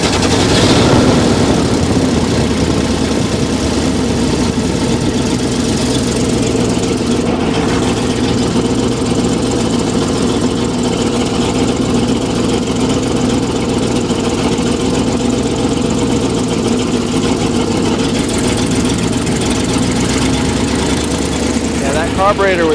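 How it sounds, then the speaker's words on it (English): A 1975 International 1800 truck engine idles steadily after a carburetor and idle-mixture fix, a loud continuous low rumble running throughout with people talking over it. "we finally got it to idle"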